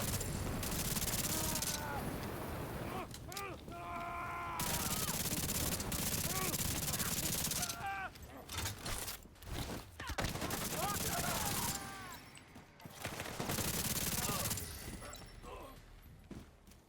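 Minigun fire rattles against a door in a co-op console shooter, coming in long sustained bursts broken by short pauses, loud and close, with voices talking over parts of it.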